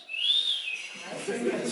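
A man imitates a whistle aimed at someone, giving a single rising-then-falling wolf-whistle-like tone, close and fairly loud, trailing into soft breathy noise.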